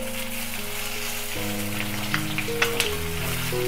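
Tomatoes and green chilli sauté in a pan of gravy for restaurant-style paneer pasanda, giving a steady close sizzle with a few sharp spits and crackles and no talk.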